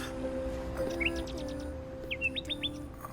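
A bird in a stop motion film gives two quick runs of thin chirps, faint and somewhat distant, over a low steady hum and soft background tones.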